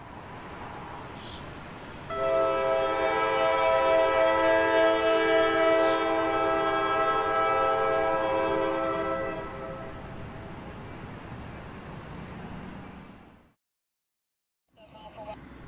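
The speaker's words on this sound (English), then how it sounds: "NS-216, a Jacksonville, Florida to Chicago intermodal train, negotiates the S-curve south of Butler Street" NS-216, a Jacksonville, Florida to Chicago intermodal freight train, rounds an S-curve south of Butler Street in Ohio, sounding a long loud multi-tone horn blast over a steady rolling rumble that fades before a short silence.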